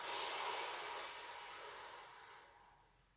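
A deep, complete exhalation during a yoga kriya breathing exercise: one long, steady, breathy rush of air, close and fairly loud, tapering off over about three seconds, with no talking.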